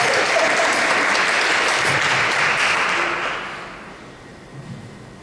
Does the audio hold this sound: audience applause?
yes